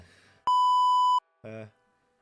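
A censor beep: one steady, loud pure tone lasting under a second, cutting between bits of speech.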